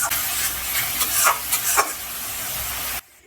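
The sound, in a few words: onion and tomato paste being sautéed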